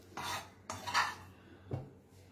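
A tablespoon scoops chickpea flour from a container into a bowl, making three separate soft scraping clinks of metal against the container, close and quiet, with stillness between them.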